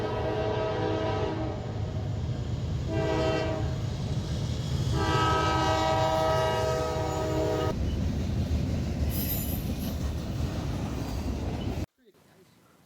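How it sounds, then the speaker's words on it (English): Train rumbling through a new railway tunnel at the Nemo Tunnel, steady and loud for about twelve seconds with horn-like tonal blasts over a continuous rolling roar before cutting off abruptly. "we got to see a train go through the new tunnel"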